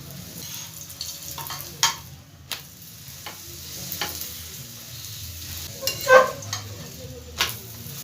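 A paratha fries in oil in a pan, with a soft steady sizzle, occasional clinks and scraping knocks from a utensil, and a louder spatter near the end, close up with no talk.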